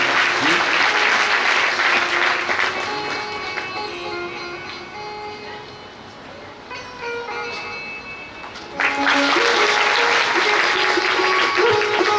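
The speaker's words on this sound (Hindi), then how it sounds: "ताली बजा के स्वागत करिएगा।" An audience at a satsang gathering bursts into steady, dense clapping that fades to a softer patter, then surges back to full loud applause.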